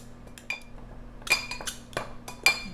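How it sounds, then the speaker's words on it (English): A fork and knife work butter into flour in a bowl, giving sparse light metallic clinks and scrapes at an irregular pace, close but faint over a quiet hum. "with a fork and your knife, just cut in the butter"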